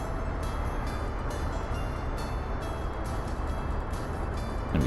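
A train rolls along the tracks in the city builder Workers & Resources: Soviet Republic, giving a steady, broad rumbling wash with no break, close and even throughout, with no voices over it.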